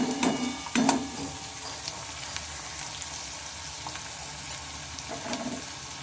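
Pieces of eggplant fry lightly in a pan, a soft continuous sizzle with a couple of louder stirring scrapes near the start and faint clinks later.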